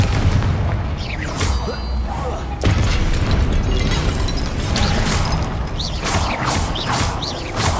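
Confringo blasting spells firing in Hogwarts Legacy, loud repeated booming explosions with crackling bursts and mechanical clatter over continuous game sound, a sharp blast near the middle.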